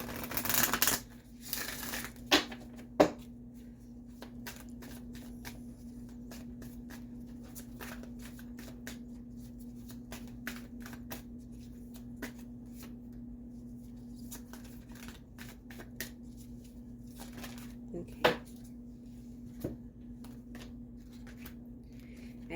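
Soul journey oracle cards being shuffled, a burst of card riffling at the start followed by scattered soft flicks and taps over a low steady hum, close and quiet.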